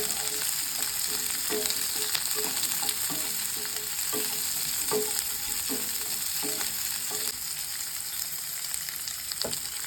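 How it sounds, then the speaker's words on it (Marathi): Vegetables, garlic and chillies sizzle in a hot pan for chicken chilli while a spoon stirs them, scraping and clinking in a steady rhythm over the constant close frying hiss. "थोडे आता फ्राय करून घेऊया."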